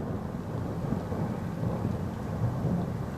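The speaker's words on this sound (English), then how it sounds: "You might be able to hear the thunder in a second." Thunder rumbles low and continuous through a thunderstorm in Scarborough, UK, a distant steady roll with faint rain, and no talking.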